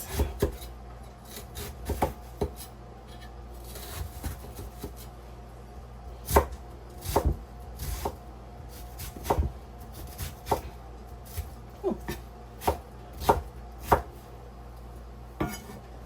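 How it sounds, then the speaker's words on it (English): A knife chops an onion into big rough chunks on a cutting board for a Trinidadian stew beef, with about a dozen sharp, evenly spaced knocks ringing out close and clear, and no voices. "I'm gonna cut the onion in the same way."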